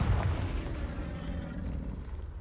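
A Confringo spell explosion in the video game Hogwarts Legacy lands as a deep, loud boom at the start and then rumbles away into a fading roar.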